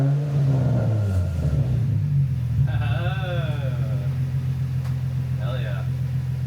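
A 2004 Infiniti G35 Coupe engine revs up and settles back toward a steady idle rumble, loud and close, while people talk over it.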